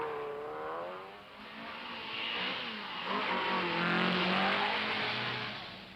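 Citroën DS19 rally cars driving a long-distance rally give a steady, loud engine roar that swells and fades as they run, with no talk.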